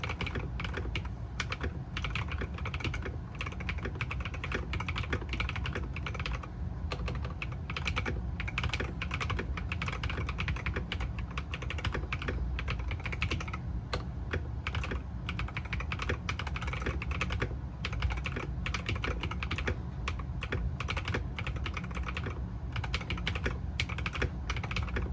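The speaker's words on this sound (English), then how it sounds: "So we're gonna be doing a little bit of a type test here." Steady, fast typing on an RK Royal Kludge C61 wired gaming keyboard, a continuous close-up patter of key clicks running throughout with no pauses.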